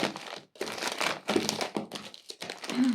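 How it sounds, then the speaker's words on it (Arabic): Plastic bags of Alb El Baba biscuits are handled and rearranged, producing loud, close crinkling and crackling in irregular bursts separated by short pauses, with no speech. "يلا بينا نعدل الاكياس بتاعتنا"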